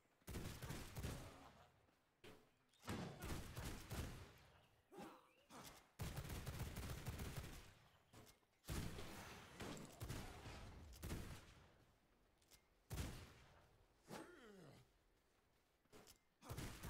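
Gunfire in the vampire survival game V Rising: repeated loud bursts of shots in irregular volleys across the whole stretch, with brief gaps between them and some game effects mixed in.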